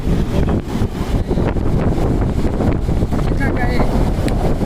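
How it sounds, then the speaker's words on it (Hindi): Sea waves rush and wash up onto the tables of a seaside chaat stall on the Karachi shore, a loud, continuous surging roar with heavy wind buffeting the microphone throughout. "ये देखो पानी आ गया।"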